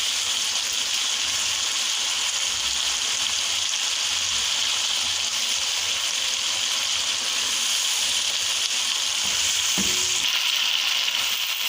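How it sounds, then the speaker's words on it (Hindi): Masala for beef Shinwari karahi frying in a pan, a loud continuous hissing sizzle with faint stirring, and a short clank of utensil against pan near the end. "अब हम 2 से 3 मिनट के लिए अच्छे से मसाले को भून लेंगे।"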